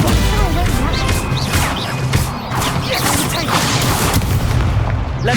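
A Stupefy spell cast during a Hogwarts Legacy duel, heard as a blast and whooshing impact within continuous loud spell-combat noise, with crashes and booms layered throughout.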